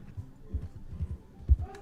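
Horse hooves in Red Dead Online clop in a quick, uneven rhythm, fairly close and moderately loud, with no talking over them.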